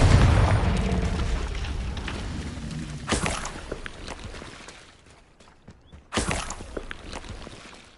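Hogwarts Legacy's Confringo fire-blast spell erupts three times, one rumbling boom at the start and two sharp, loud bursts about three seconds apart, each trailing off into a low rumble.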